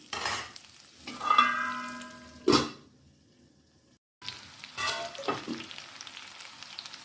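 Pointed gourd and moong lentils fry in a pan with a close, crackling sizzle, broken by a few louder stirring scrapes and a brief silent gap before the sizzling resumes.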